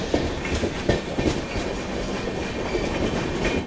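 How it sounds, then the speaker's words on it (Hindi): Duronto Express passenger train running on rails, a steady loud rumble with rhythmic clickety-clack wheel beats over the track joints, continuous and close from inside the coach. "अपनी ये दुरंतो एक्सप्रेस महाराष्ट्र का गोंदिया जंक्शन स्किप कर चुकी है"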